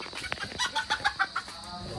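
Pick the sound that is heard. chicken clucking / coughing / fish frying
chicken clucking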